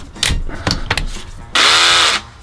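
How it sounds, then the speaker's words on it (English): A Metabo KHA 18 LTX 18V cordless combination hammer with SDS attachment is handled with a few clicks and knocks, then runs briefly in chiseling mode in a loud, close half-second burst. "So you can just use that just for chiseling."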